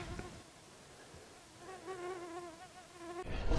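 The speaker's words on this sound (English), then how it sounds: "Too many flies." Flies buzz close by in Namibia, a thin whining drone that rises and wavers over faint background noise before a sudden loud rustle at the end.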